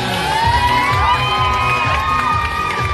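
A stage event crowd cheers and whoops loudly and continuously, with high shouts and whistle-like cries rising over dense, steady crowd noise throughout.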